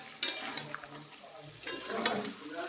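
Dhaba-style chicken curry being stirred and sautéed in a pan, with soft sizzling under sharp metallic scrapes and clinks of a spatula against the pan at irregular intervals.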